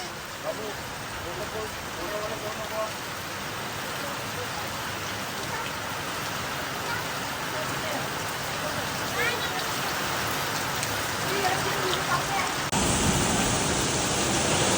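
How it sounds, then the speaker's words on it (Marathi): Heavy monsoon rain in the Konkan pours down in a dense, continuous hiss, growing louder toward the end, with a few faint sounds beneath the downpour. "एवढा जोरदार पाऊस तुम्हाला आवाज येत असेल"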